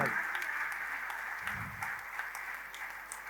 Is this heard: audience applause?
yes